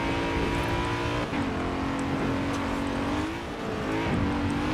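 A 2011 BMW X5 M in Forza Horizon 4 drives at full throttle, its engine droning loud and close with steady revs, dipping briefly at gear shifts and climbing again, with no talk over it.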